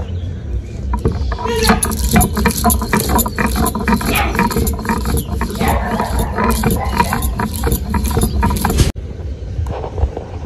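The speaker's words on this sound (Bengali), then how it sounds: "সর্ষেটাকে জল দিয়ে খুব ভালো করে বেটে নিব।" Black mustard seeds ground with water for kachki fish fritters: a loud, close, continuous grinding whir with a rattling texture runs steadily, then cuts off abruptly near the end.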